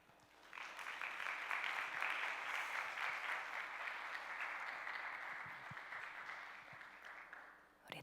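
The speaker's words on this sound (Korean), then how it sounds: "다시 한번 큰 박수로 격려해 주시면 감사하겠습니다" Sustained applause from a church congregation at a Sunday morning worship service, a dense steady patter of many hands that swells in, holds evenly for several seconds and thins out near the end, with no talking over it.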